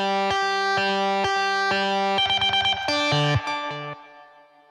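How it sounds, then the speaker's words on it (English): Bright electric guitar chords and notes ring out through distortion amps, with delay repeats and a reverb tail fading at the end. "Those are distortion amps. And my reverb and delay."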